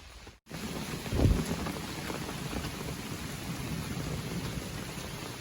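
Heavy thunderstorm rain pours steadily in the open on an Appalachian Trail forest path, with a low rumble of thunder swelling early on; no voices.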